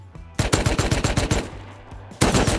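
A light machine gun fires in Rust, loud close bursts of rapid shots with a brief pause before another burst starts.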